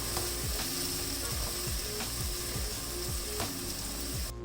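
Chickpea masala for Lahori chana, seasoned with red chilli and salt, gets stirred in a hot pan: a constant hiss of frying under rhythmic scraping strokes, roughly one or two per second, close up.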